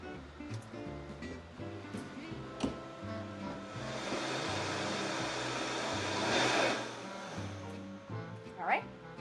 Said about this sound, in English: we're going to use some of the juice that we've already blended to help us blend